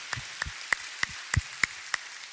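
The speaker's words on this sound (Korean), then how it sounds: "우리 하나님께 감사와 영광의 박수 올려드리겠습니다." Applause from a church congregation at a Korean worship service: about seven sharp, separate hand claps spread unevenly over two seconds, fairly faint and with no talking.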